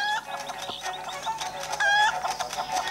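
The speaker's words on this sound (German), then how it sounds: "Huhn." A chicken in the Zelda Link's Awakening video game clucks in quick, bright, chirpy bursts, close and clear, repeating several times over soft game music with no talk.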